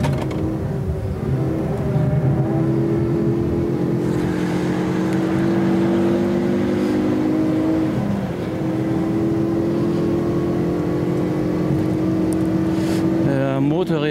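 A Ford Focus RS engine drones steadily at speed on the Nordschleife race track, its pitch rising and falling with throttle, heard from inside the car with a voice talking over it.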